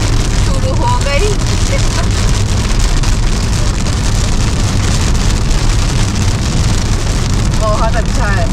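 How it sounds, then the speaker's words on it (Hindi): Heavy rain pours steadily on a vehicle during a road trip from Delhi to Indore in Maharashtra, a loud continuous hiss over a low road rumble, with a few brief voices. "आप तो झमाझम बारिश शुरू हो गई।"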